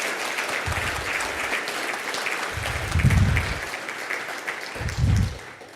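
An audience at a closing discussion session gives a round of applause to the IBIS team, steady many-handed clapping at moderate level with low thumps and rumbles rising through it.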